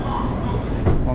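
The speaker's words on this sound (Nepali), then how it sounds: "ट्रेनको यात्रा हुँदैछ" A driverless train runs from Suwon to Everland in South Korea, its low, steady interior rumble filling the short moment, with a slight bump in loudness near the end and voices faintly mixed in.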